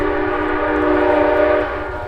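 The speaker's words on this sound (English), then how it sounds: "There goes the train." A train horn sounds steadily, loud and sustained for about two seconds, its layered harmonic tones over low rumble of the passing train before easing slightly at the end.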